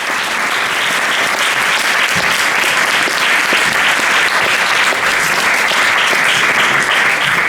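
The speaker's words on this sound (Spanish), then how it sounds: "Un aplauso para él." Loud, sustained audience applause at a talk on climate, dense clapping from a large crowd filling the whole stretch without pause.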